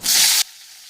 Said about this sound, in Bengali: কড়াই দিয়ে দিচ্ছি সাদা তেল আর উচ্ছেগুলোকে দিয়ে দেবো